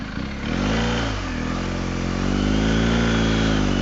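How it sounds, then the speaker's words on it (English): A motorcycle accelerates out onto the road on its first ride, the engine revving loud and close with a rising, steady roar and no talk. "Let's go for a little run then. First time I've ridden this bike. First time out on the road."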